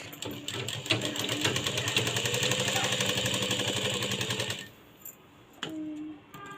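A sewing machine stitches cloth to make a tassel, running in a fast steady mechanical rattle for about four and a half seconds, then stopping, followed by a short burst of handling sounds, close by.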